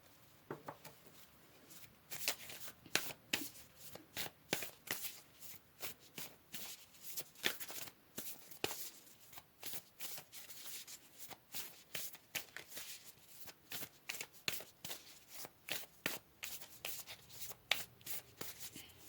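Tarot cards shuffled by hand, a long run of soft papery riffles and taps in uneven bursts, close and quiet with no talking.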